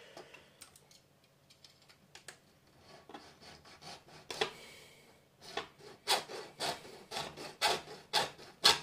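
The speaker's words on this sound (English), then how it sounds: "But with a decent razor saw, it's not that much work." A razor saw cuts through the rivet of a Triang model railway coupling, a faint rasping stroke that picks up into a quicker, steadier rhythm of close-up scratching strokes.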